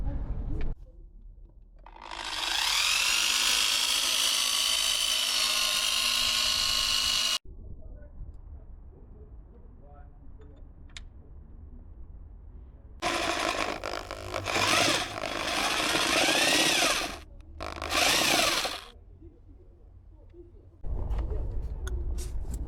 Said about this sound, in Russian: Так, отверстие есть, устанавливаем.